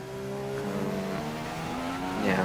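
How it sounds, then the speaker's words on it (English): McLaren Formula 1 car with a Honda engine in a racing video game, revving high with rising and falling gear-change tones, steady and fairly loud, no talking over it. "now it's again the McLaren with a Honda engine."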